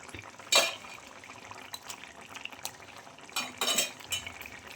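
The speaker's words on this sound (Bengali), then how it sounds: "বড়াগুলো দিয়ে দিচ্ছি, একটু ঝোল ঝোল রাখবো" Masoor lentil fritters are added to a simmering curry with potatoes in a pan, heard as quiet clinks of a spoon against metal, soft plops and brief stirring scrapes in a few separate bursts.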